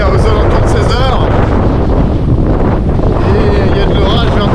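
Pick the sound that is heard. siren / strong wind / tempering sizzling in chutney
strong wind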